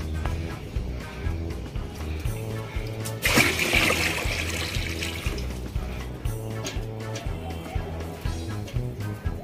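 Water is poured into an air cooler with a brief burst of splashing, heard over background music and a murmur of voices.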